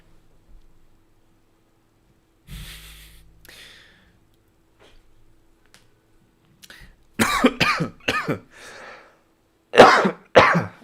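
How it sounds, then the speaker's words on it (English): Several separate coughs in a quiet room, one muffled early on, then a cluster of sharp, close coughs followed by a final loud one. "I still have a bit of a cough,"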